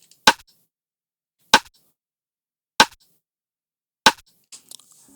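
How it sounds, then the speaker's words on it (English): Rim shot drum sample from a hip-hop beat remake, four sharp, dry cracks evenly spaced about a second and a quarter apart, isolated against silence. "This is the rim shot I've used."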